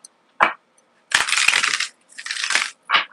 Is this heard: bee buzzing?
no